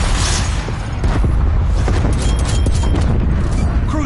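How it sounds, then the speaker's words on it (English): Heavy booming blast with rumbling, debris-laden roar from a cruise missile explosion in the video game Call of Duty, loud and dense throughout with a few sharp cracks layered in. "Enemy cruise missile launch detected"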